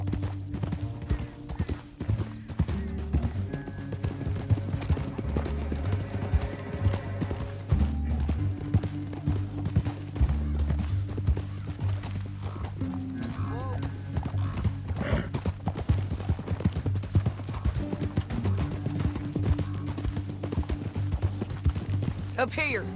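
Horses gallop in Red Dead Redemption 2, a steady run of hoofbeat clip-clop with an occasional whinny, continuous and fairly close, mixed under a dense game music bed and some talk.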